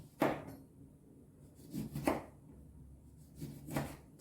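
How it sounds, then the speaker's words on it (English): A knife slices through fresh lemons on a cutting board, three separate close cuts each ending in a soft thud, spaced about two seconds apart, with no voices. "I'm just going to slice these up."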